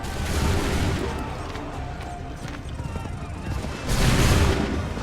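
A battle in Assassin's Creed III: a dense rolling volley of musket gunfire cracks out in a continuous wash, swelling again into a heavier burst near the end, with muffled voices and battlefield clamour underneath.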